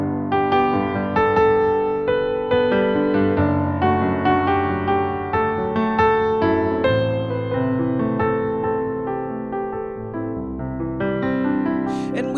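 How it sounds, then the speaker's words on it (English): A song from The Greatest Showman played in a major key, a steady instrumental passage of sustained harmonic chords and melody running throughout without any voices. "For example, we all know the hopeful and happy song from Greatest Showman,"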